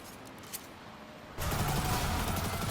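Gunfire in Destiny 2: quiet ambience with a single faint shot, then a sudden loud, sustained burst of rapid shooting and impacts filling the rest.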